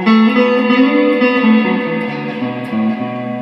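An Electro Harmonix Cathedral reverb pedal with its blend turned down, fed by a guitar: loud, sustained chords ring with a smooth, lush wash of reverb tails that change pitch a few times, with no talking.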